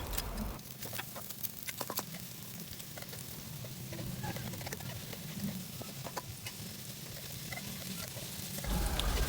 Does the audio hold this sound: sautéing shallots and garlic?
yes